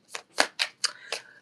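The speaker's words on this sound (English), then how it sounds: "I'm just going to have to move my cards over." Tarot cards slid and shuffled across a tabletop, five quick soft papery swishes and taps in a row, close and fairly quiet, with no talk.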